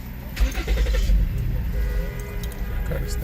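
A 2008-2013 Ford Edge engine cranks and catches, then settles into a steady low idle rumble close by, with no talking over it.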